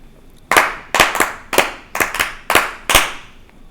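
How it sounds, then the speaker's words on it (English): Seven sharp hand claps in an indoor room, spaced irregularly roughly half a second apart, each loud, close and crisp with a short decay. "I forgot to do a clap sync"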